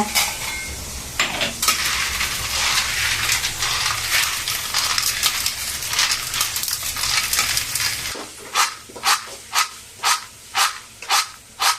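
Tomatoes sautéing in a pan for a spinach stir-fry, with sizzling under repeated scraping strokes of a spoon against the pan, the sizzle dropping away near the end and leaving a run of sharp, evenly spaced metallic clinks.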